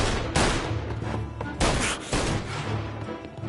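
Dense, loud gunfire from the video game Mafia Remake, overlapping rapid shots and booming bursts filling the whole moment without pause.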